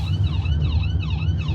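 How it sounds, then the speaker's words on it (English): An ambulance siren wails in a rapid, looping up-and-down pattern close by, loud and steady over low traffic rumble, with no talk. "there's an ambulance to our right"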